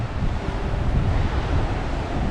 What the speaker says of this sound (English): as you can see the waves aren't crashing much over the bank